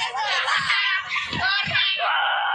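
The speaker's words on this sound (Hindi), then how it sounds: "चीखें हॉरर फिल्म के साउंड इफेक्ट्स यहाँ से लिए जाते हैं" Contestants on the Japanese game show Takeshi's Castle scream in a continuous, loud, high-pitched chorus of shrieks and wails, with a few lower voices surging underneath.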